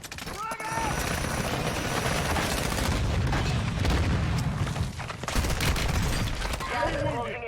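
Frag grenade blast and rapid gunfire in a multiplayer shooter video game, a heavy boom followed by sustained loud crackling shots and rumble, with voices briefly speaking.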